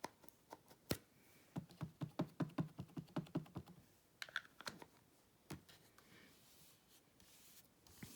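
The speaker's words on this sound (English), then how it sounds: "now I'm going to ink my penguin with the Memento Tuxedo Black ink" A penguin rubber stamp being inked with a Memento Tuxedo Black ink pad: a quiet, close run of quick, rhythmic dull taps, with a few scattered knocks before and after and no talking.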